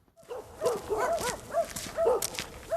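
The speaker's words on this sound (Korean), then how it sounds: "폭삭 주저앉은 농가로 다가서자 개 짖는 소리가 들립니다." Puppies guarding an empty farmhouse that collapsed in a wildfire bark in repeated short yips and whimpers, fairly near and steady over a quiet outdoor background, with no talking.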